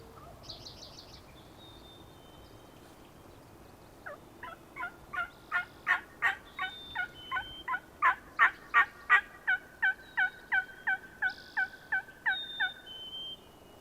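A wild turkey gobbles in the Idaho woods, first faint, then a long rapid run of loud rhythmic gobbling pulses that build and fade.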